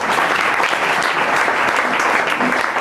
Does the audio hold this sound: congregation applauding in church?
yes